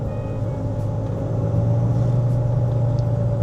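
Steady low drone and rumble from a high-mileage car with a worn rear wheel bearing or differential, heard from inside while driving, continuous and fairly loud with no talk.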